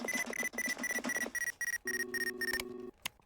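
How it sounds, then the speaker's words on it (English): A proximity alarm in the space-salvage game Ostranauts beeps in a fast, regular electronic pattern, shifting to a lower sustained tone partway through, loud and alone. "Chat, remind me that the prox alarm is off."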